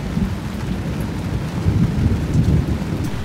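A rainy-season thunderstorm heard from inside a cabin, with steady rain pattering on surfaces and low rumbling thunder rolling continuously beneath it, no voices present.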